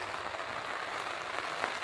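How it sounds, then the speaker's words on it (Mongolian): Rain falls on a rainy morning, a steady, even hiss of drops spread across the whole clip at moderate level, with no voices and no clear individual splashes standing out. "Бороотой өглөө."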